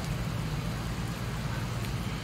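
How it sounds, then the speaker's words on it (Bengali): Night rain in Saudi Arabia makes a steady dense hiss with no breaks and no talking. Drops patter on the surfaces nearby under a low rumble in the background. "এই যে এখন একটু বৃষ্টি জোরে আসছে"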